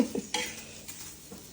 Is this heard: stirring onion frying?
yes